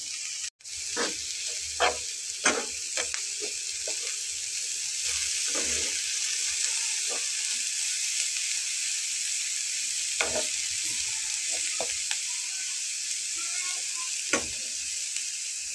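Cauliflower stuffing sizzles steadily in a hot pan while fresh coriander leaves are stirred through it, with scattered spoon scrapes and clicks over a continuous frying hiss, close by and with no talking.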